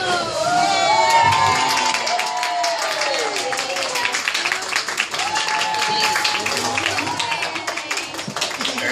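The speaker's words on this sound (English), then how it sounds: "if you feel inclined to cheer for her, you're more than welcome to" SeaWorld audience cheering for a performing animal: a loud, sustained crowd of voices with high children's shouts, whoops and scattered clapping, continuous throughout.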